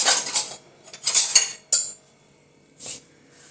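A metal spoon scoops triphala churna powder from a container in a few short, close scraping bursts, with one sharp clink, then quiet.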